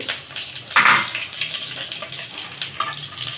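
Dried chilies, bay leaves and cinnamon fry in hot oil for a pickle, giving a steady close sizzle with a brief louder burst early on and light utensil clinks.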